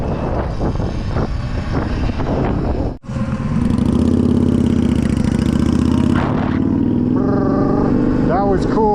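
A two-stroke dirt bike revs its throttle up close on a road. After a brief cutout, the engine drone climbs in pitch, holds loudly and rises again near the end, mixed with voices talking and some rattling clatter.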